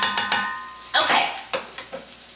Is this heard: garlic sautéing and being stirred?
yes